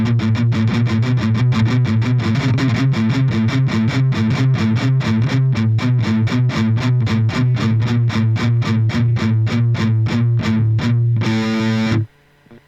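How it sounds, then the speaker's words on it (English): An electric guitar played through distortion runs steady, evenly picked finger-exercise notes in a fast repeating rhythm, loud and alone, ending abruptly with a brief final strum. "we're jamming on some of these exercises, a little distortion"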